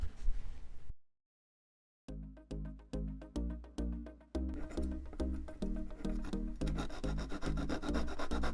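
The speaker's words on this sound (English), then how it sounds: "I'm going to cut these a little bit longer, just a little bit, and I'll sand it to fit" Balsa wood servo rails for an RC plane kit are sanded by hand, close rhythmic rubbing strokes, a short pause, then faster steady back-and-forth rasping.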